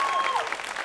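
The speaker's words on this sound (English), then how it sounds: "How many of you, by round of applause, have heard of Daiko before?" Short burst of audience clapping at a Harrisen Daiko taiko show at CVG-TV 2014, fairly loud and dense, with a crowd voice or whistle rising briefly over it before fading.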